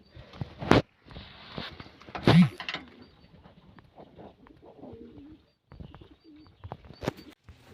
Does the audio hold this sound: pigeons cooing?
yes